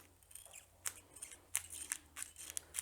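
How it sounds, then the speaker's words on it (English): Dull scissors cut through heavy-duty Velcro with a series of crisp, crunchy snips at an irregular pace, close and quiet. "my scissors are getting dull"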